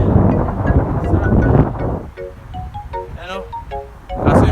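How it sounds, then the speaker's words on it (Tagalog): Strong wind buffets the microphone outdoors near a lit stadium during an evening walk, a loud rumbling roar that eases partway through as a person talks over it, then gusts hard again at the end. "kinig nyo kasi malakas yung hangin"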